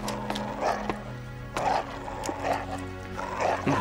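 Dogs barking in a short run of close, repeated barks about every second, fairly loud with a little background noise and no talk.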